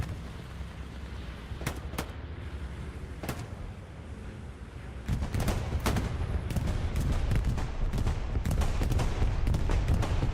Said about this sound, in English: Pathfinder bombing run does a good job to cut off the the SOV advance